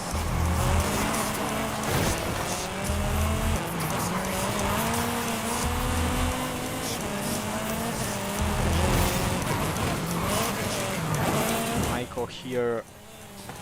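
Car racing in Forza Horizon 5, a Spring Festival playlist race: a sustained engine roar shifting pitch through gears with repeated tire squeals and skids, running loudly throughout while someone talks over it.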